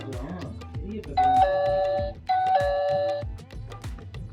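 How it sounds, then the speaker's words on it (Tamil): A doorbell chimes twice in quick succession, each a bright two-tone ding-dong, with soft talking underneath. "காலிங் பெல்லாம் இருக்குது பாருங்கள்."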